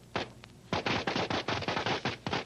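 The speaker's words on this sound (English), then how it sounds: "The fireworks went off with a bang and a swoosh" Fourth of July fireworks: a couple of sharp bangs followed by a rapid string of crackling pops, loud and close, with no voices.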